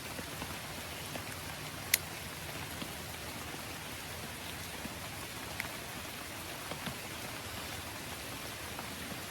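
Rain falls outdoors in a continuous soft hiss at an even level, with a few isolated drop taps here and there and no voices.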